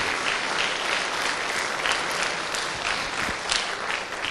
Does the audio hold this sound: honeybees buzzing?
no